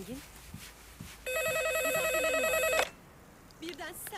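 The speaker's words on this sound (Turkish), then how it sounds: "Git bak kızım şu telefona." A telephone rings in one continuous warbling electronic burst of about a second and a half, near and loud, with people talking in Turkish before and after it.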